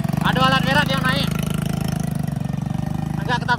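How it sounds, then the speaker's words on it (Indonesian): A heavy equipment machine climbing a forest road between Muaro Aie and Alahan Panjang keeps up a loud, steady, low engine rumble throughout. People talk over it at the start and again near the end. "Agak ke tepi dah, ada alat berat yang naik."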